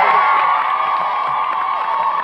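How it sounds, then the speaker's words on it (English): Studio audience of a live Saturday-morning children's TV show cheering, whooping and clapping, a loud continuous crowd roar with excited high-pitched shouts, steady throughout with no clear talk. "Give them a massive round of applause."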